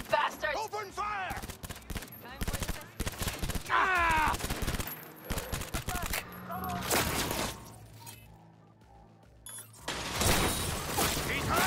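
Heavy gunfire in a Cyberpunk 2077 shootout with Panam, with dense bursts of rapid automatic shots and single cracks clustered through the scene, loud and close, with shouted voices between volleys and a lull before firing resumes.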